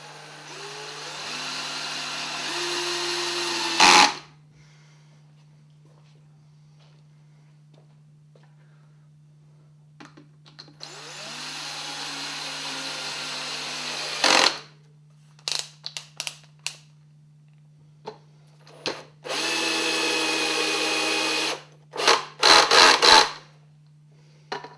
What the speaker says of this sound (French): Puis, je visse.